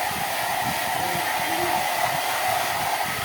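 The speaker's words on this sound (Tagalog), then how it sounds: "Naka-blower pa si Bulit." A hair dryer blows in a steady, even roar over a freshly bathed dog, the continuous airflow hiss unbroken for several seconds with no voices.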